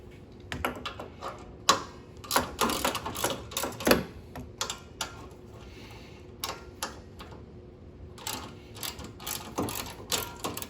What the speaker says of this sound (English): Now let's go ahead and remove these two bolts.